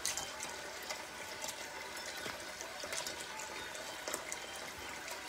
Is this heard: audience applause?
no